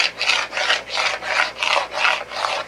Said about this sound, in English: I want to scrape the bottom of the skillet